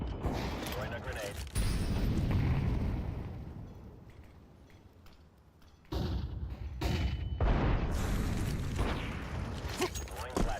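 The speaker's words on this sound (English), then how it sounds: "Throwing a grenade." A grenade detonates in a Counter-Strike 2 match, giving a loud, broad boom that cuts off sharply and is followed by a quieter stretch, then more bursts of gunfire and game noise.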